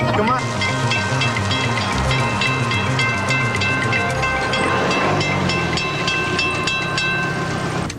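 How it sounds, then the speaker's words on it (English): A train rolls past a rail crossing, loud and close, with a continuous rumble and clatter, steady rhythmic wheel beats and a high whine, sustained throughout. "Oh, we can't wait for a train."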